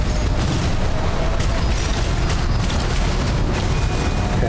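A mech's weapon fires in the video game Armored Core VI, dense booming blasts packed into a continuous loud roar with sharp bursts scattered throughout, no speech.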